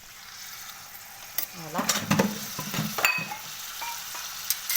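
Chicken frying with onion in a pan, a close sizzle with scraping stirring strokes and clatter, under brief speech.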